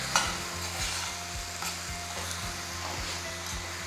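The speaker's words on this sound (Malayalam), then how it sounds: "3 table spoon tomato puree, 1/2 teaspoon sugar, ഇതെല്ലാം കൂടെ നന്നായിട്ട് മിക്സ് ചെയ്യുക." Tomato puree and sugar are stirred into a sizzling vegetable mix in a pan, a spoon scraping in a steady rhythm of about two strokes per second over a soft, constant fry.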